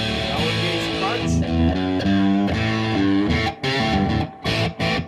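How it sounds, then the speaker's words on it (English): An electric guitar plays through an MXR 78 distortion pedal with its crunch switch on, giving loud, gritty distorted chords and riffs with brief gaps between phrases. "So next we're going to go on to the 78 distortion. MXR product."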